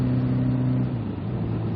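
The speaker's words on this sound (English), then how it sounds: "So I gotta rev the engine, give it a little rev, and then it'll find neutral okay." A motorcycle engine in neutral gets a short rev, a steady mid-pitched drone for the first second that eases off, heard up close with no talking.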